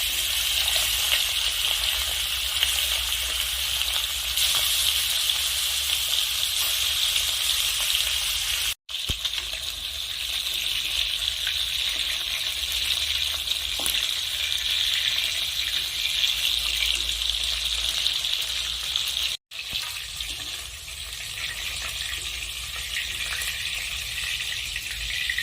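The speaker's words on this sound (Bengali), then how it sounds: "এখন এই তেলেই বাকি চিকেনগুলো একইভাবে ভেজে নেব।" Pieces of chicken frying in hot oil for a spiced chicken curry, giving a steady, loud sizzle that carries on unbroken apart from two very short gaps, with no voices over it.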